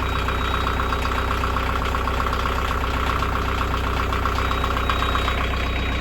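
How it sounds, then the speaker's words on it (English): A narrowboat diesel engine idles loud and close with a faulty alternator, giving a steady rhythmic chug layered with a persistent whine throughout, no talk. "So that's the alternator noise."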